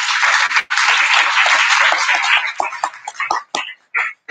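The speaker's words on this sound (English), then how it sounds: "Give them a big round of applause" Audience at a time management masterclass applauding with dense, loud clapping that holds for a couple of seconds, then thins into scattered claps and fades out.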